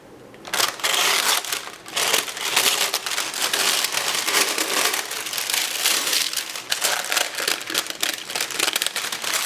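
Warm sublimation paper is peeled and unwrapped from a freshly sublimated tumbler, making close, continuous crinkling and crackling for several seconds with no talk.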